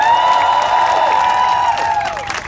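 An outdoor street-show crowd at Faneuil Hall cheers and whoops loudly, with scattered clapping underneath. Sustained shouting voices hold for about two seconds before tapering off.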